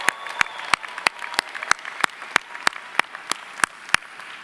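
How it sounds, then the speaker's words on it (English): Sparse, evenly spaced handclaps ring out alone from a commencement audience of School of Management graduates, a thin round of applause with individual claps clearly separated. "another round of applause for yourselves"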